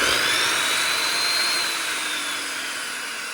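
A table saw motor fitted with a soft-start module spins up in a steady, loud broadband whine that gradually eases and slightly drops over a few seconds, heard alone without any speech.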